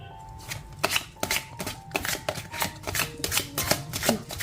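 Tarot cards being shuffled, a rapid series of crisp riffling bursts and soft taps in quick irregular rhythm, close and alone without talk.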